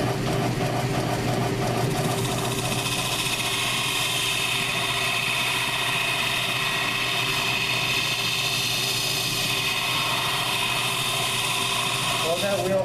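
Metal lathe turning a Razor scooter wheel, cutting at the outer diameter, gives a steady loud machine drone with a continuous whirring hum throughout, without pauses.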